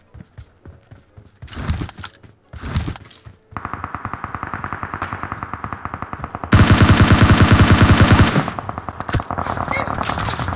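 Automatic gunfire from the video game PUBG Mobile rattles out in long rapid bursts, loud and close, with one especially dense stretch, scattered single shots and echoing reports, and brief voices at the start.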